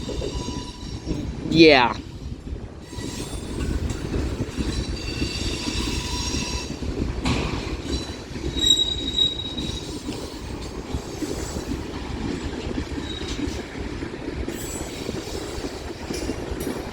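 A BNSF mixed freight train rolls past at a Central Avenue crossing, a steady loud rumble of wagons and wheels with a brief wheel squeal early on; a voice speaks briefly over it.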